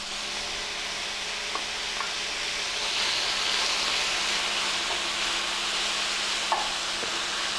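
Ground beef browns with black beans in a hot pan, giving a steady, close sizzle and hiss throughout, with a few faint clicks of stirring.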